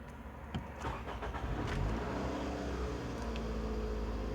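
Scion xB engine, just after a throttle body cleaning, starts and settles into a steady, close idle hum, with no talk over it.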